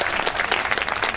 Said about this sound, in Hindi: एक बार इसलिए जोरदार ताली